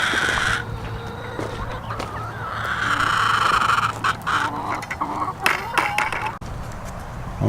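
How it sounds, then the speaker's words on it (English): Several chickens cluck and murmur close by in a busy, continuous chorus at feeding time on fermented grain, with a few sharper calls and scuffling noises mixed in. "let's find out if these chickens out here are hungry for their fermented grain"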